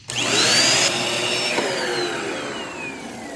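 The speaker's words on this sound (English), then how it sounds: "Okay, brush roll works, vacuum is clogged." An upright vacuum cleaner with a clogged hose starts up with a whining motor and its brush roll spinning, loud and close, the high whine slowly falling in pitch as it runs.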